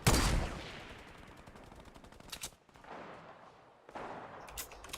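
Sniper rifle shots in a shooter video game, a sharp loud report at the start followed by a couple of fainter, more distant cracks with echoing tails.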